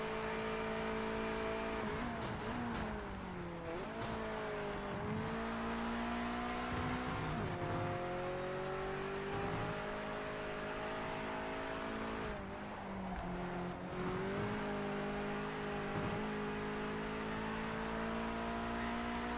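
Simulated race car engine from Project Motor Racing, driven on cold tyres, holds a steady loud drone throughout, with pitch rising and falling through gear changes and brief lifts around corners.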